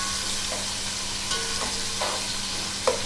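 Onions frying in a pot for matar pulao, a continuous close sizzle with a few soft stirring knocks and a low steady hum beneath, with no talking.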